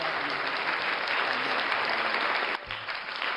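Dense, sustained clapping from a group fills the whole stretch with an even wash that dips briefly near the end before carrying on.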